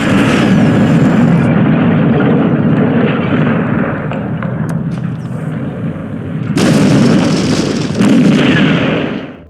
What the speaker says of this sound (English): Then you got lots of lovely explosions again